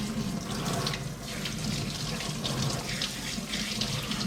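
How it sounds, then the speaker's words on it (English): Cold tap water runs steadily into a sink as salmon fillets are rinsed beneath it, a continuous close splashing hiss with small shifts as the fish moves through the stream. "Just rinsing them in cold water,"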